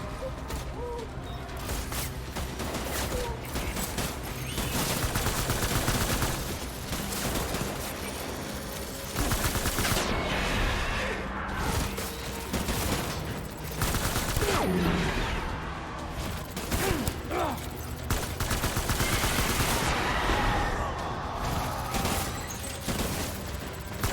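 Gunfire in the video game Death Stranding: a dense, continuous barrage of shots over loud battle noise throughout.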